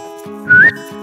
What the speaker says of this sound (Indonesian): dan bisa siul